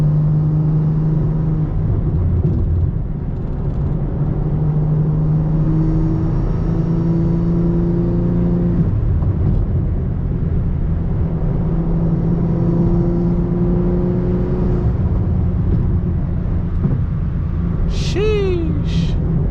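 A BMW M340i with a catless downpipe idles and cruises with a steady, loud exhaust drone and low rumble, and a brief high squeal near the end.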